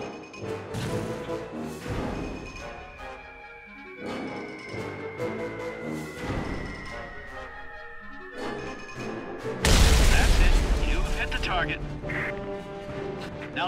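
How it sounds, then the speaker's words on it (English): Aircraft-dropped bombs explode in War Thunder: a sudden loud, broad blast rumbles about two-thirds through, after a stretch of engine drone and game tones. "Drop the bombs."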